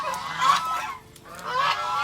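Muscovy ducks on a farm honk and call in two hoarse, breathy bursts, close and fairly loud, with a short quieter gap between them.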